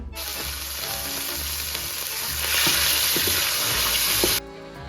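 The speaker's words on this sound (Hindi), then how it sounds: "ये ऑयल गरम करने रख दिया है और अब इसमें मैं डालूंगी चिकन" Cubes of chicken sizzle steadily in hot oil, the frying swelling louder partway through before cutting off near the end.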